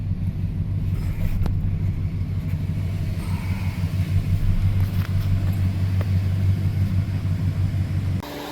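A truck rolls slowly into a wash bay, its engine giving a steady low rumble close by throughout, with a few faint knocks and clanks before the engine note drops near the end.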